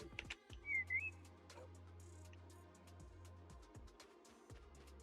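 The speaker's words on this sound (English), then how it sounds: "Whistle." In the video game Little Rocket Lab, a quiet, brief two-note whistle chirps once early on over faint game ambience, a low steady hum and scattered soft clicks.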